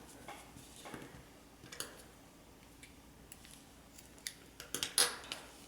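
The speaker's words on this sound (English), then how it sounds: "Chain 1 and cut your yarn." Scissors snip crochet yarn while finishing a lacy vintage-style coaster, with a few soft clicks and one sharp cut near the end, close and quiet with no talking.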